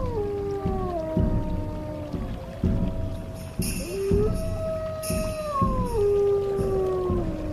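Several wolves howl together in the wild, long overlapping wavering calls that rise and slowly slide down, sustained and fairly close, one voice after another.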